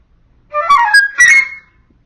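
A flute playing a short birdlike phrase from Messiaen's Le Merle Noir, two quick bright bursts of sliding, trilled notes lasting about a second, clear and close.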